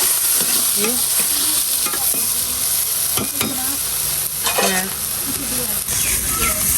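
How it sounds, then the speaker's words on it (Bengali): Shrimp sizzle in a pan with onion, garlic, green chilli and ginger, cooked outdoors in the rain on a makeshift fire, with steady frying hiss broken by repeated scraping stirs of a spatula. "এখানে পেঁয়াজ রসুন কাঁচামরিচ আর আদা চিংড়ি এটা দিয়ে ভাজি করতেছি"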